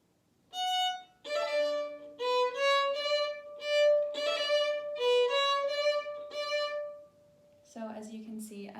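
Solo violin plays a slow Vivaldi passage of separate trilled notes, each phrase bowed distinctly with brief gaps between, close and moderately quiet, ending on a lower sustained note.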